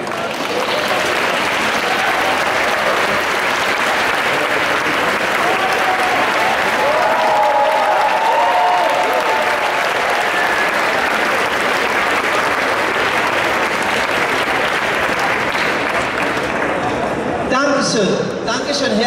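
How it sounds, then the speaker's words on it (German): Sustained, loud applause from an audience at a fetish fashion show in Munich, dense clapping and crowd noise that runs steadily for nearly twenty seconds before thinning out at the end. "und jetzt bitte nochmal einen Applaus"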